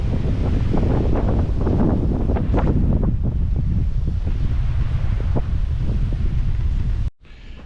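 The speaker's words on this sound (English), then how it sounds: "And that wind's blowing." Strong hurricane wind roars and buffets the microphone in heavy, continuous gusts, loud and close, cutting off abruptly near the end.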